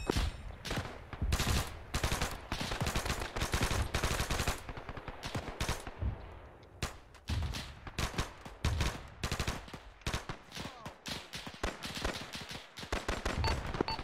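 Dense, sustained gunfire in the WWII-era ArmA3 combat game, rapid automatic bursts and rifle shots crackling loudly and almost without pause across the whole stretch, with a brief lull midway before the firing resumes.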